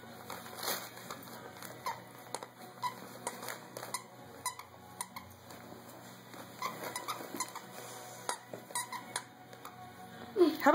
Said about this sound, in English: Uh-oh, squeaky.